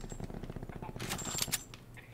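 Rapid video game gunfire crackles in a quick burst of shots during an online match, with players talking over the shooting.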